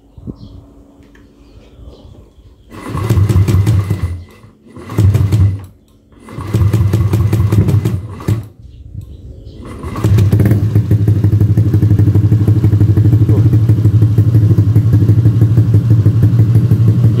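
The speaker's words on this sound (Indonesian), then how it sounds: "Jadi memang agak susah hidupnya, apalagi kalau mesinnya belum dipanasin ya." A cold Honda Beat carbureted scooter engine being started, with several loud sputtering cranking bursts and pauses before it catches and settles into a steady, close running drone.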